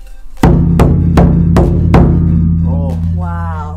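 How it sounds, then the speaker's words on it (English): A huge Japanese odaiko taiko drum is struck five times in a steady rhythm, each deep boom ringing on, followed by a couple of brief voiced exclamations. "The odaiko is the biggest drum in the taiko ensemble"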